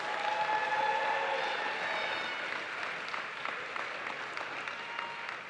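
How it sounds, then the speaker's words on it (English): A large audience at a Lincoln University graduation ceremony applauds continuously, a broad wash of clapping with some whistles early on, heard from a distance and slowly easing. "Let's give them a round of applause."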